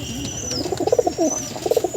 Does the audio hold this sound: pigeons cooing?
yes